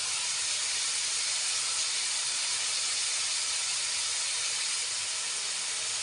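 Onions frying in a pan for tomato gojju, a steady bright sizzle that runs evenly throughout at a soft, constant level with no voices.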